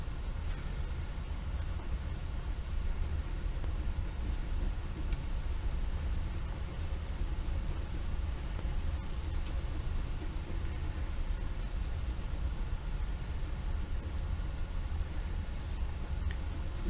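A pencil or crayon sketches an orange flame layer on paper in continuous wiggly strokes, a soft, even scratching that runs steadily and close, with no talk.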